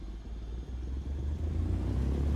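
Small aircraft engine at full takeoff power in Microsoft Flight Simulator, a steady low droning rumble that builds slightly over a couple of seconds, with no talk.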